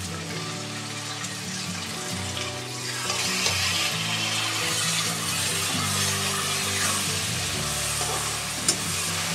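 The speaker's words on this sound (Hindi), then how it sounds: "प्याज टमाटर के साथ हम इसे अच्छे से गलने तक भूनेंगे।" Chopped tomatoes and onions fry with turmeric and spices for a rohu fish curry, giving a continuous close sizzle that swells a little partway through, with faint stirring and no talk.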